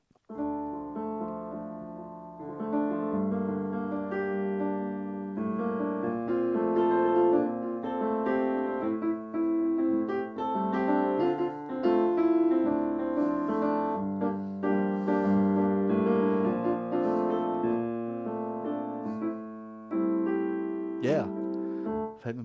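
Piano chords and melody are played with halting, uneven timing, notes bunching and pausing irregularly over about twenty seconds.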